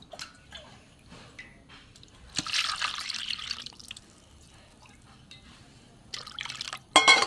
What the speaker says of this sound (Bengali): এই সাদা জলটা ফেলে দেবো। আবারও জল দেবো।